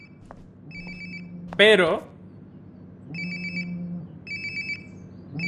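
A mobile phone rings in Life is Strange: Before the Storm, a repeating electronic ringtone in short bursts separated by pauses, with a loud vocal exclamation and a spoken word between rings.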